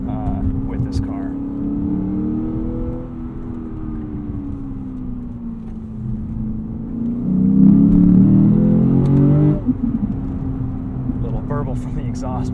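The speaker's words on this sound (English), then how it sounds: "Little burble from the exhaust back there." Exhaust burble from a 2019 Lexus GS F 10th Anniversary Edition V8 in sport mode, a low steady rumble heard from inside the cabin that swells briefly in the middle before settling back.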